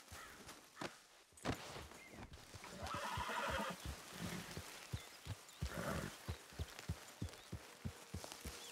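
A horse whinnies loudly in Red Dead Redemption 2, its neigh rising and falling, while hooves clop steadily underneath at a walking pace.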